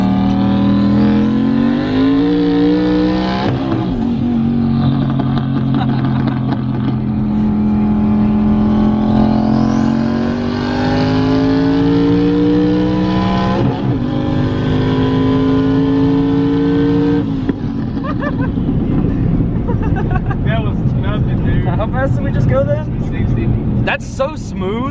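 A boosted car running up to 17 pounds of boost makes hard acceleration pulls, heard from inside the cabin. The loud engine climbs steadily in pitch, drops briefly at several gear shifts, then climbs again.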